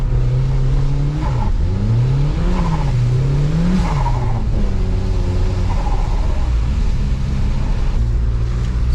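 A turbocharged Mazda Miata driven top-down on a snowy, slippery road revs loudly, its engine note rising and falling through repeated throttle pulls and shifts, with turbo whistles and hiss over a constant close drone.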